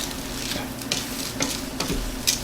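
Split peas being stirred into a pot for split pea soup with ham, a steady hiss with a faint sizzle and a few periodic scraping strokes of a spoon, close and without talk.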